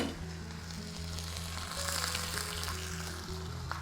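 A piece of pork hits a hot pan and sears with a steady, close sizzle and crackling spatter that keeps going without a break, and no one speaks over it.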